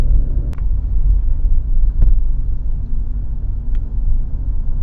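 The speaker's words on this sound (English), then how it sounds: "I'm going to take you on a scenic drive to someplace special." Car driving on the road as captured from inside the cabin by a Pelsee P12 Pro mirror dash cam, a steady low engine and road rumble with a few brief clicks and knocks, no voices.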